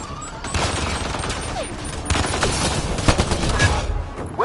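Sustained gunfire from Mass Effect Andromeda combat, a steady stream of rapid shots with sharp louder cracks punching through, loud and close throughout with no talking.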